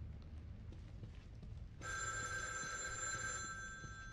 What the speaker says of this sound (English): Shit, who's calling my phone?